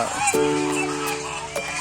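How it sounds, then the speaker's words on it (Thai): Loud honking calls from geese, a drawn-out harmonic honk with sharper calls, over background crowd chatter at a botanic garden in Sendai. "นู่นครับห่านเสียง เสียงดังเลย"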